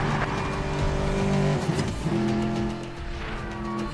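A car in the video game Medal of Honor Warfighter is driven hard, its engine loud and close with a steady drone that shifts pitch as it revs, and tire noise comes through as it goes.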